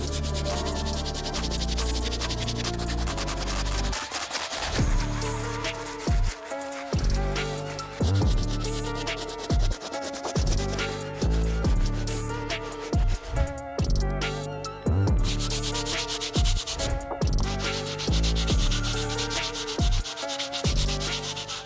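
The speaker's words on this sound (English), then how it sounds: "I'm gonna move on to the medium bristle brush" A medium bristle brush scrubs the stitching on a Nike Huf Dunk sneaker in continuous rough, rhythmic strokes, close and loud, with brief pauses between passes and no talking.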